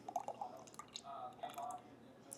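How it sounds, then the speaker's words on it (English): Oatly oat milk creamer poured into a glass of matcha up to the foam line, a quiet series of soft drips and splashes followed by a brief gentle trickle, faint and close. "I just pour my creamer to the foam line"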